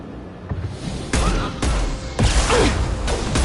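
Combat in the video game Mass Effect 2, with several sharp bursts of gunfire and impacts in rapid succession over a rumbling game soundscape.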